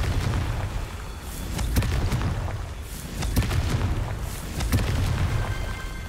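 A series of booming explosions from the Confringo blasting spell in the video game Hogwarts Legacy. Several heavy, deep bursts land in quick succession and build into a rumbling barrage, with nobody talking.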